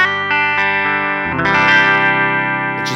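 Clean electric guitar tone played through a Line 6 Helix modeling a Jazz Rivet 120 amp: sustained chords ring with a few picked note changes, then a brighter strum swells midway, loud and close with no talking.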